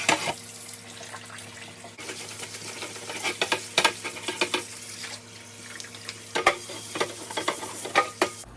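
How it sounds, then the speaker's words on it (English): Scrubbing a cast iron skillet at a sink, with irregular rough scraping strokes and splashing water running steadily underneath, close and fairly loud. "So I'm going to scrub this up."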